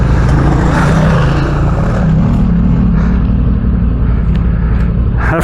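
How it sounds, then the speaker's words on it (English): Motorcycles, a Honda Africa Twin and a Ducati, ride uphill on the Billy Goat Bluff track, their engines a loud, steady rumbling drone up close with no talking. "Africa Twins, what is it? Ducati X going up."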